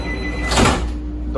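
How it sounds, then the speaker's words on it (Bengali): A sliding door on a Vande Bharat Express coach glides shut with a brief, close whooshing rush over a steady background hum, with no talking. "দরজা বন্ধ হয়ে গেল"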